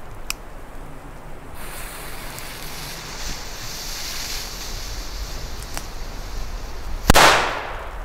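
A single sharp, loud bang of a German D-class firecracker from Diamond Feuerwerk, heard in open air over a steady windy outdoor hiss, with a brief fading echo after the blast.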